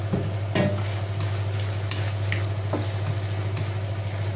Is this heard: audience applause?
no